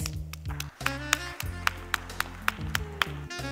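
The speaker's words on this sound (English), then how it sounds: "Ladies and gentlemen, a big round of applause." A conference audience in Dubai applauds a sponsor, with irregular sharp claps over a steady background of tonal music, fairly faint and at a distance.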